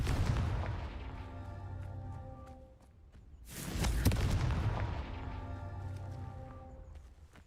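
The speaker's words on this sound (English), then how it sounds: "looks like we're lighting fires. Confringo!" In the Hogwarts Legacy video game, a Confringo fire spell is cast to light fires, producing a loud whooshing burst that flares up mid-clip over a continuous rumbling game soundtrack.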